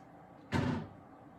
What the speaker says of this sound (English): there's a cupboard door that she can open just a little bit and then let slam when she wants to